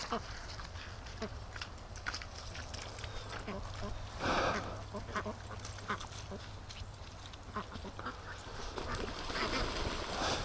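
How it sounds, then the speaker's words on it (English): A group of ducks quacks at a lake as they come back across the water, scattered calls heard faintly under a person talking, with a dog also nearby. "Oh, ducks. Look at them coming back."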